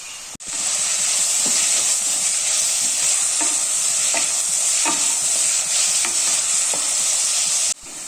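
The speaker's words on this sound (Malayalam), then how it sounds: "നന്നായിട്ടൊന്ന് കളർ മാറുന്ന വരെ വഴറ്റി കൊടുക്കണം കേട്ടോ" Onions sautéing in a pan for a vegetable salna, a steady loud sizzle with faint scrapes of stirring throughout, cutting off abruptly near the end.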